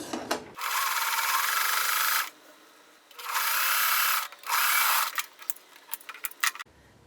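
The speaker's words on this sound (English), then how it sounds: "we're going to sew this together and this together" A sewing machine stitches quilt block pieces together in loud, steady whirring runs of one to two seconds, with short pauses and light handling clicks between them.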